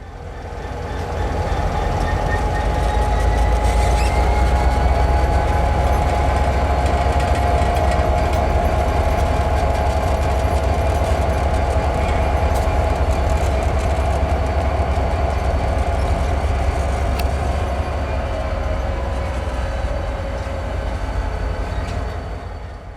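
A CPKC freight train with tank cars rumbles steadily along the tracks for the whole stretch, a heavy low drone with faint clanking and a thin metallic whine above it, fairly close.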